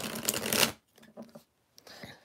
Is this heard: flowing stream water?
no